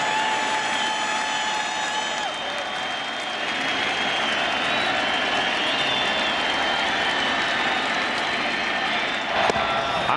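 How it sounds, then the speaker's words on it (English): Baseball stadium crowd at a 2008 NLCS game between the Phillies and Dodgers, a sustained loud roar and cheering filling the whole stretch, with whistles rising above the steady din. "Well, this crowd hasn't quit."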